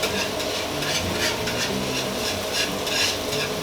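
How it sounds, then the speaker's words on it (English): A whisk scrapes and stirs pepper sauce in a steak pan over just-under-medium heat, lifting the dark bits left by the steak; a steady close rasping churn under a soft sizzle, with no talking. "Let it cook down a bit, whisk it a bit. Try to get the dark bits that the steak left behind up."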